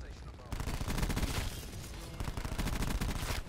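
A PDW gun firing on rapid fire in a video game, a fast continuous stream of loud close-range shots in long unbroken bursts.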